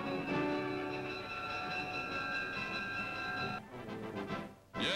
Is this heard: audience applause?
no